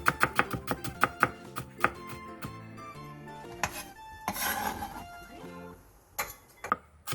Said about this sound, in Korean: 당근 2분의 1개도 양파와 비슷한 두께로 얇게 채 썰어주세요